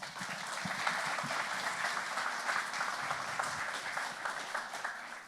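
An audience applauds after a football player's answer at a draft press event, a steady wash of many hands clapping, moderately distant, sustained for several seconds.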